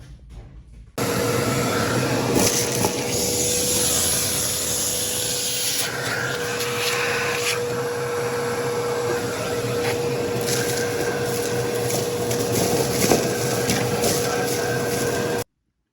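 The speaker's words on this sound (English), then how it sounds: "I might have to vacuum it out" Vacuum cleaner clearing out a large rat's nest behind the engine of a 1970 Ford ZC Fairlane, switching on after a second into a loud steady whine with shifting suction tones as the nozzle moves, then cutting off at the end.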